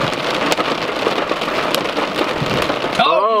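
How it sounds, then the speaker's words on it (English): Hail pelts down hard during a storm near the Grand Canyon, making a dense, loud, continuous patter of icy stones striking surfaces close by, with a brief voice at the very end. "and now it's hailing"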